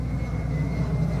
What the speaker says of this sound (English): Listen to the background. It's an airplane.